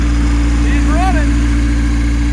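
A newly installed engine in a salvaged Acura RSX idles with a steady, loud, low drone, and a brief faint whine rises and falls over it.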